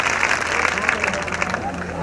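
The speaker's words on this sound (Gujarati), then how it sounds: "જોરદાર તાળીઓના ગજારો સાથે આપણે એમને આવકારીએ." Applause from a crowd welcoming a dignitary at a temple consecration festival, a moderate spread of clapping mixed with murmuring voices and an announcer talking over it.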